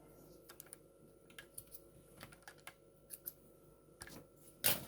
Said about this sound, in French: Je coupe les petits fils.